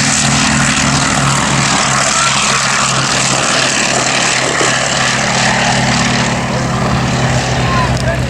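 A vintage short takeoff and landing propeller aircraft at an Old Warden airshow flying day, producing a loud, steady, close propeller and engine drone throughout.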